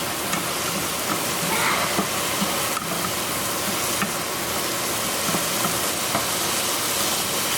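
Quinoa toasting in hot oil in a pan gives a steady, dense sizzle with scattered small pops and crackles throughout, close and fairly loud, with no voices.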